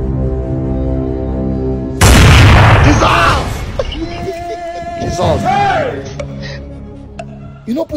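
A single loud, booming gunshot in a film scene, ringing out over background music and followed by crowd shouting and voices.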